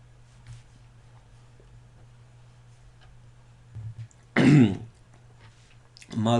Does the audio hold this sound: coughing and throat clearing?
yes